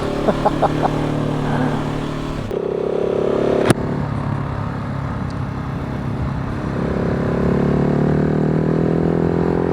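A KTM 690 SMCR motorcycle riding on new Michelin Power 6 tyres, engine droning steadily with wind rush and a rising pitch as it accelerates, close and loud after a brief clatter.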